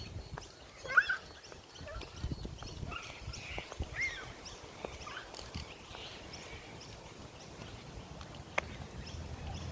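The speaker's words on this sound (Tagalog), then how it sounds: "So many birds." Birds calling beside the McIntyre River, scattered chirps and calls at moderate distance over steady outdoor background, including turkey-like gobbling fowl sounds.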